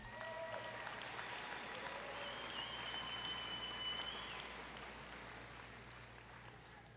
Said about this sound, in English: Let's give these people a round of applause.